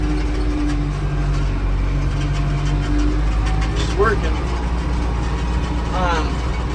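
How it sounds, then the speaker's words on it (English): A 65-horsepower tractor engine idles steadily with a deep, continuous rumble close by, as a person speaks briefly over it. "It's a nice tractor, and it's 65 horsepower"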